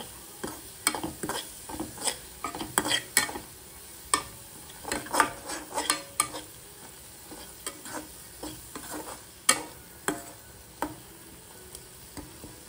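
Masala with green chillies fries in a pan for a gravy while a spoon stirs it, giving irregular scraping clinks over a soft, steady sizzle. It is close and fairly quiet, with no voices.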